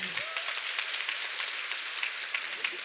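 Sustained applause from an audience at a seminar-style event, a dense even wash of clapping that holds steady throughout, with no speech over it.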